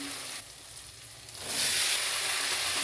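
Malabar spinach tipped into bitter gourd and spices frying in oil: a steady close sizzle that jumps louder about halfway through and keeps hissing strongly, with no talking.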